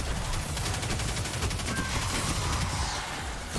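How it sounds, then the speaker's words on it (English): Rapid automatic fire from a solar SMG in Destiny, shooting at enemies in the K1 Crew Quarters lost sector; a dense, steady rattle of shots runs loud and continuous throughout with no talking. "I'm using a solar SMG for the shanks"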